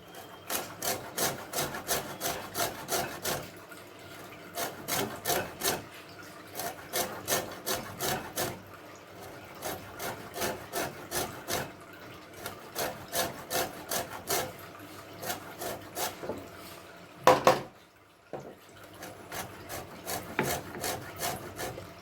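Lemon peel is grated on a fine grater for hotel-style lemon chicken, producing rapid rhythmic rasping strokes in repeated bursts with brief pauses, close and fairly loud, with no voices.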